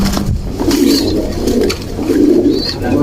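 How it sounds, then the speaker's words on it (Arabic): Pigeons coo close by in a loft, with low, rolling throaty calls repeating in bursts and a few higher chirps between them, no talk. "الحمام كله بفضل الله شغال."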